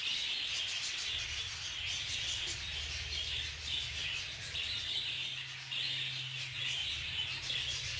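Budgerigars kept together in a shared aviary squabble and fight, giving off a busy stream of sharp chirps and squawks with scuffling rubs under a steady low hum.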